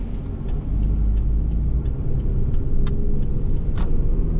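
Interior of a 2005 Toyota RAV4 on the road, a steady low engine and road rumble filling the cabin at constant loudness, with a couple of faint clicks above it.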